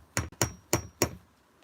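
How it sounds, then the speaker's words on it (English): Four sharp metallic hammer strikes drive a pin into a door hinge, evenly spaced and close, each with a brief ringing clang in an otherwise quiet room. "So I'll just hammer it in"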